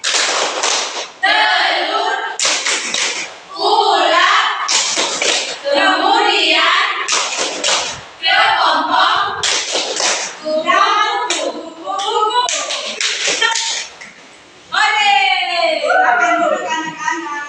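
Children in a classroom perform a clapping chant about animal metamorphosis and life cycles, with sharp rhythmic hand claps interleaved with loud chanted voices close by.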